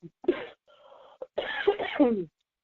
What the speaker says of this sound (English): Y'all have to excuse me if I'm coughing.